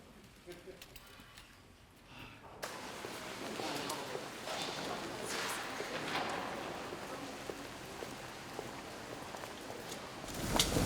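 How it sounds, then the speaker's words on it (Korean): Steady rain falls outdoors, a dense broadband hiss that starts abruptly a few seconds in and continues to the end, with voices faintly underneath. "분위기 맞게 비가 오고"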